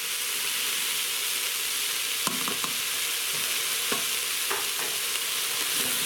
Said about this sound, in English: I'm going to add in the chorizo now.